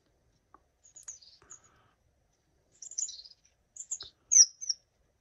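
Small birds chirp in short, scattered bursts of high tweets, picked up by an IMILAB C22 camera, with a brief pause mid-way and a louder flurry near the end, clear against a quiet background.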